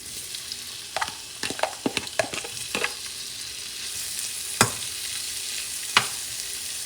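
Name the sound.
shrimp frying in sesame oil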